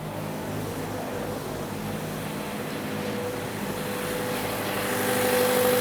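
A 2014-2018 Mazda 3 idles steadily after a fuel pump module replacement, a low even engine hum that swells slightly toward the end, with no talking.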